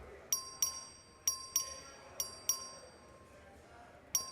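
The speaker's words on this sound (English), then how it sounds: "Clerk, ring the bell." A legislative voting bell rung by the clerk in a state house chamber, about seven bright ding strikes spaced unevenly over a faint room hum, each ringing clearly and fading quickly.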